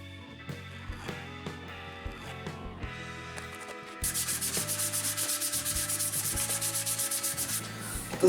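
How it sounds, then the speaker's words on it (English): Sandpaper of 220 grit rubbing over the wooden body of a cheap DIY guitar kit, first in separate strokes, then a steady fast back-and-forth scrubbing that grows louder, close up with no talking. "I also had to sand the wood with 220 grit because it felt a little rough in some areas"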